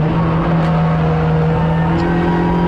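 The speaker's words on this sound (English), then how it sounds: "There's the Caterham through." Caterham race car passing at speed around Donington circuit, a loud sustained engine drone with steady harmonic tone and slight pitch shift as it goes by, close and continuous.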